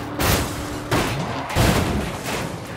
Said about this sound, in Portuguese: E bora dar tiro.